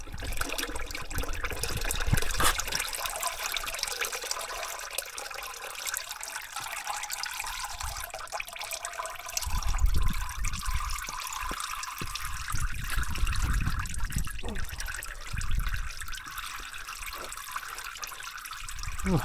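Oil pouring into the engine of an Audi A8 4.2 TDI during a service until it overflows out of the filler, a steady close trickle and splash of liquid running throughout, alone without talk.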